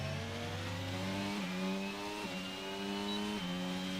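Racing car engine in an F1 video game at Abu Dhabi, revving high and continuous with several sharp pitch drops as gears shift, loud and close throughout.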